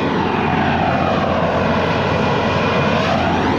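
A loud, continuous roar of aircraft engines at the Reno air show, including a P-51 Mustang and F-16s, fills the air with a steady droning rumble, no voices audible.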